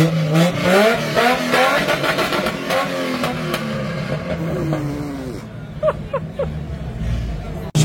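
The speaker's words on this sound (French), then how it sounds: "là-haut il y a un V12 qui a démarré" Lamborghini Revuelto V12 on a Cannes street revving in rising and falling sweeps, fairly near and loud, with crowd chatter and voices around it and a few sharper blips near the end.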